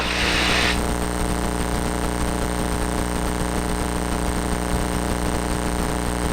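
A small propeller airplane drones steadily from inside the cabin during a test flight, a loud, constant engine and propeller hum as it slows and the flaps extend, with a brief hiss of air at the start.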